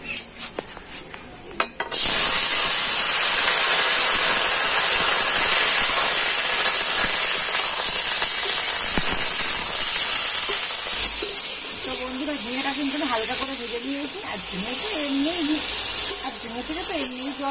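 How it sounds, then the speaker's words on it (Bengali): Ridge gourd slices hit hot oil in a pan and burst into loud, steady sizzling frying that carries on without a break, with a voice talking faintly underneath. "আমি এবারে ঝিঙেগুলো ভেজে নেব।"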